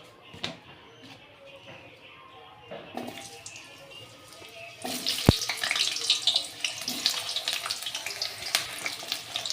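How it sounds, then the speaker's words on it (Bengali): Potatoes hit hot oil and start frying while jackfruit curry is being cooked at home. A quiet clattering start gives way to a loud, steady sizzle and hiss after a few seconds. "এই যে আলুগুলোকে ভালো করে ভেজে নেব"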